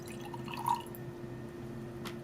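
Sodium chloride solution in water being poured into a 250 ml graduated cylinder in a chemistry lab, a faint, soft trickle with a brief splash near the start over a quiet hum.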